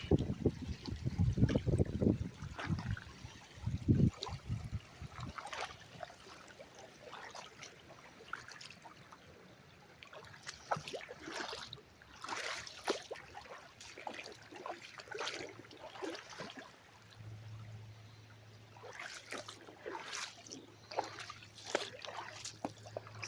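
Flood water runs through a washout, a quiet, uneven trickling rush mixed with wind buffeting on the microphone and a few louder gusts early on.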